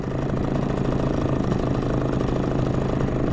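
A Sea-pro T2.6S small outboard motor runs steadily on a boat during break-in trolling, a close, loud, even buzzing drone with no talk.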